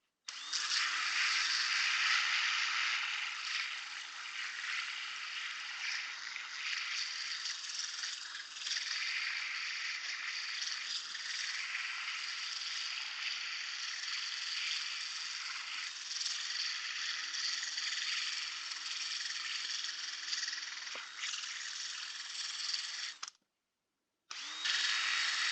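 A power tool grinds steadily to sharpen a 3D printed gauntlet hinge, running loud and continuous for about 23 seconds before cutting off briefly and starting again.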